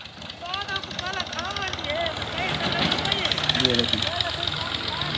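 A tractor's diesel engine rumbles steadily nearby, chugging under someone talking over it throughout, during maize shelling in Punjab.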